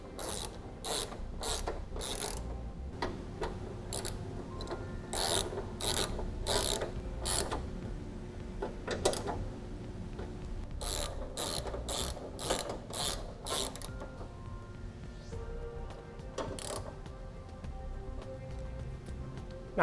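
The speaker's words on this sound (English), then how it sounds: "we can go ahead and tighten down the hardware that secures it to the bracket" A ratchet tightens the bracket hardware on DeeZee oval tube running board steps, heard as close bursts of rapid, even clicking that pause and resume several times, with no voices.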